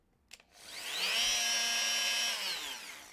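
A Bosch PMF 220 CE 220-watt multifunction oscillating tool spins up after a click, holds a bright, steady buzzing whine close by for about two seconds, then winds down, with no speech.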